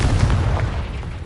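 A Confringo spell explosion from Hogwarts Legacy bursts as one short, loud, bass-heavy boom that rolls on briefly and then thins out.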